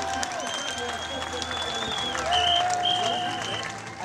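Stadium crowd at the Homeless World Cup 2011 applauding the referees, a steady wash of clapping and cheering with whistles and voices rising through it, fairly loud and continuous.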